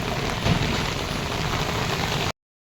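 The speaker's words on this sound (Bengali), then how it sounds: "এই বলার পর দেখি বৃষ্টিটা জোরে আসে।" Heavy monsoon rain pours down in Kolkata as a dense, even hiss of drops that stays loud and constant, then stops abruptly.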